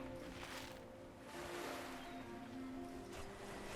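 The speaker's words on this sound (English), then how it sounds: "Love the sound of those waves." Ocean surf rolls and washes steadily in a Guild Wars 2 game world, a continuous broad hiss of breaking waves with soft swells, alone with no talk.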